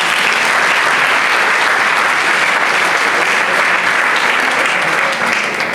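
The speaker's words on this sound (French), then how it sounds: "Applaudissez-les." A crowd claps loudly and continuously for a Senegalese youth football team at a Diambars tournament, a dense, even roar of applause with no letup.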